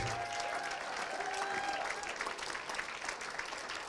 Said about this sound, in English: we'll need to keep clapping for a while